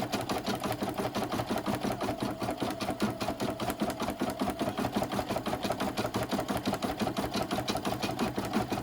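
A home embroidery machine stitches a zigzag at a rapid, even mechanical rhythm, loud and close throughout, with no talking.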